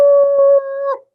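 A human voice imitates a dog howling in a storytelling setting, one loud, sustained, steady howl with a brief wavering drop at the end, heard alone.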